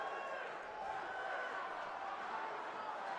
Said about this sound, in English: A lot of crowd noise with 7 seconds to go on the shot clock.